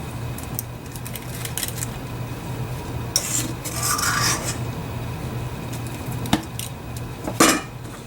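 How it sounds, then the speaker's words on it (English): Chicken burger patties being shaped in a small hamburger press, with scraping, rubbing clicks and a couple of sharp knocks of the press over a low steady hum, close and moderately quiet. "I purchased this really cool little hamburger press"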